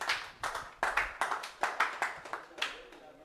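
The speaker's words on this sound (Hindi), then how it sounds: "तालियां हो जाए इनके लिए" Students in an economy class clap for a classmate, a short scattered round of about nine hand claps, close and moderately loud, tapering off.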